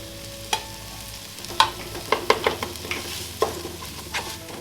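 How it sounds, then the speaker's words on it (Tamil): Ginger garlic paste sautéing with softened onions and tomatoes for a prawn biryani, a low sizzle broken by a series of sharp spatula scrapes and taps against the pan, close and alone. "ஸோ இந்த இஞ்சி பூண்டு பேஸ்டோட பச்சை ஸ்மெல் போகிறது வரைக்கும் லைட்டாக வதக்கிக்கோங்க"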